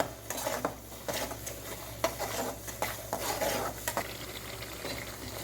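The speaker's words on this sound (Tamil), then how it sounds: "இந்த மசாலா வந்து ஆயிலே கொஞ்சம் நேரம் நல்லா வதங்கி வரட்டுங்க" Masala with turmeric fried in oil in a pan, a soft sizzle under repeated close scraping and clinking strokes of a spoon stirring against the metal.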